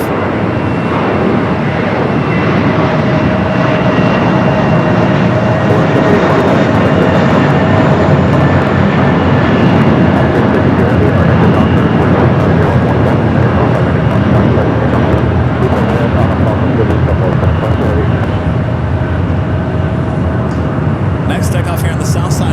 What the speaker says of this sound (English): That is Air France that you see there heading back to Paris. Heading up for a north side takeoff.